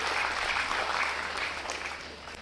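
Audience applause at a public speaking event, a dense crowd of hands clapping steadily throughout, fairly loud and close, tapering off slightly toward the end.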